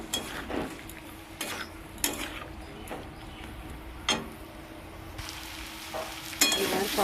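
Spice paste (masala) with a splash of water frying and being stirred in a pan, a soft steady sizzle broken by repeated sharp scrapes and clinks of a spoon against the pan.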